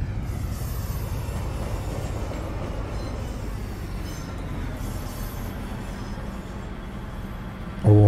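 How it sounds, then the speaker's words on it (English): A diesel multiple-unit train in Train Simulator 2019 on the East Coast Main Line rumbles steadily and continuously from inside, with a low engine drone and rolling noise, swelling into a brief louder thump at the very end. "Oh, I do like a diesel."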